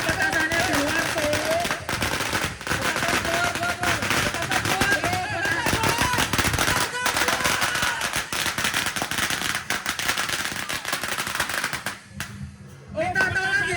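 Rapid strings of firecrackers crackle and pop loudly and continuously through a street procession in Kudus, sharp bursts layered with crowd noise and a voice on a loudspeaker, briefly easing near the end.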